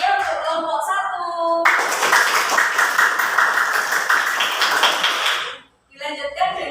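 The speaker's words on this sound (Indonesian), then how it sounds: "Beri tepuk tangan yang meriah untuk kelompok" A classroom audience gives a group of presenters a burst of applause: dense clapping for about four seconds after a spoken introduction, fading out near the end, with talk before and after.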